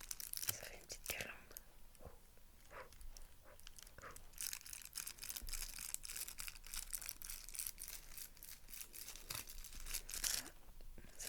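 A paper garland is handled and crinkled up close in an ASMR setting, giving soft, irregular crackles and rustling bursts at low volume, with faint whispering in the background.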